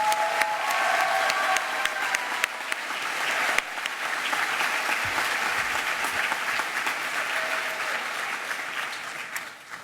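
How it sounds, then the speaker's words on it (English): Audience applause at a school commencement ceremony for a graduating class, sustained dense clapping from a large crowd that holds steady for about ten seconds, loud and reverberant, with no talking on top. "Another round of applause."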